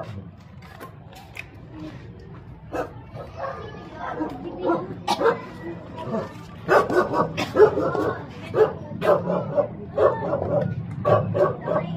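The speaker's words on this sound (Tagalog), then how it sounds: "Ay, may aso din." Dog barks and yips on a street walk through a crowded Manila neighbourhood in Tondo, several sharp barks recurring throughout under steady background chatter and street noise, with people talking nearby.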